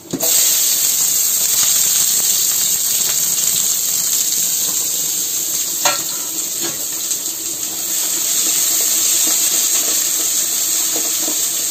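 Finely chopped onion frying in a pan with bay leaves and cumin, a continuous bright hissing sizzle with occasional small pops, close and steady for the whole stretch.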